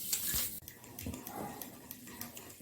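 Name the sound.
mixing eggless chocolate cake batter with flour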